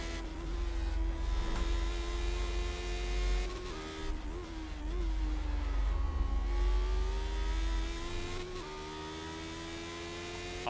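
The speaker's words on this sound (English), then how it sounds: "Oh yeah, these cars sound good, Blockmaster." A Lotus 79 Formula 1 car in a racing video game screams around Brands Hatch, its engine holding a high sustained whine, dipping and climbing through gear changes and throttle lifts across the lap.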